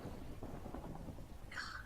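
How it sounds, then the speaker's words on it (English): Distant thunder rumbles low and soft during a Minecraft thunderstorm, a faint continuous roll with a brief higher chirp near the end. "still hear that storm."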